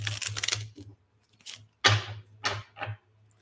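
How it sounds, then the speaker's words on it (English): Tarot cards are shuffled in a few short riffling bursts separated by pauses, quiet and close, with no talk during the shuffling. "One more shuffle."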